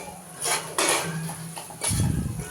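A spoon stirs fish curry with turmeric and homemade chili powder in a metal pot, producing a few scraping, clinking strokes against the pot in close succession, without speech.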